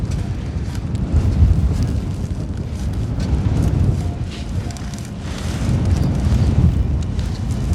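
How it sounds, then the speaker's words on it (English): Wind gusts roar across an outdoor microphone during an oil change on a 1985 Merkur XR4Ti, a steady low rumbling buffet that swells and eases over several seconds with no voices. "Oh, wind's picking up again."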